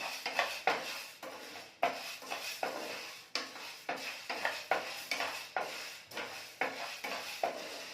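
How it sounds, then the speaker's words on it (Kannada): Urad dal frying and being stirred in a pan for spice powder, with a steady series of scraping, rattling stirs and a light sizzle underneath, close and moderately loud, no voices. "ಇವಾಗ ಉದ್ದಿನ ಬೇಳೆ ಹಾಕಿದ್ದೀನಿ ಉದ್ದಿನ ಬೇಳೆ ಫ್ರೈ ಮಾಡ್ತಾ ಇದ್ದೀನಿ"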